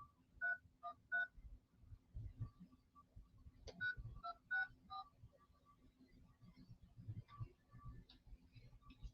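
Telephone keypad tones from a call placed to a seller's numbers: a quick run of short dialing beeps, then a pause and a second burst, playing over a low room hum.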